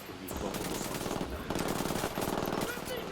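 Sustained automatic gunfire in Tom Clancy's Ghost Recon Wildlands, rapid rattling bursts running almost unbroken, loud and close with layered shots.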